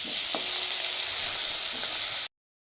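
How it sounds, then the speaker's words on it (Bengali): Boiled potatoes fry in hot oil with a dense, steady sizzle and a couple of faint clinks, up close. The sound cuts off abruptly at the end, and no one speaks. "সেই আলুগুলোকে এবার তেলেতে ছেড়ে দিচ্ছি"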